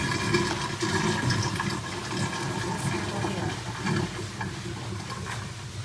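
Water drains from a household dishwasher after the lid is lifted, a steady continuous rushing and gurgling wash that holds at an even level throughout.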